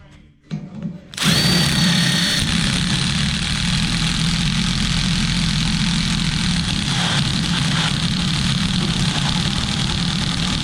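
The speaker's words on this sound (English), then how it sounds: "I'm about to take a step drill bit where we can get them drilled on out." A power drill with a step drill bit starts abruptly and runs loud and continuous with a high whine, biting through metal at close range, with no talking.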